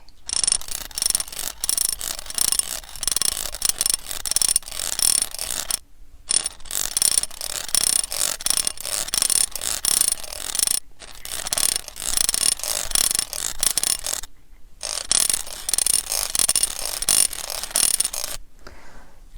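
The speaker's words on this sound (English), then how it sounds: "how about I loosen some of those restraints for you?" Restraints loosened with a mechanical ratchet, a dense, steady run of close clicking pawl teeth repeated in four long bursts separated by brief silences, crisp and alone with no talk.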